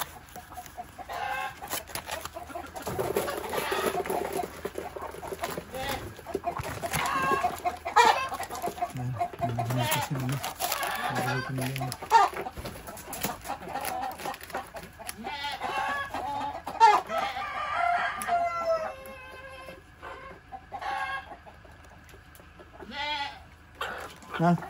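Farmyard chickens cluck and squawk throughout, with a rooster's crow and goat-like bleats mixed in, close and busy, while people talk among the animals.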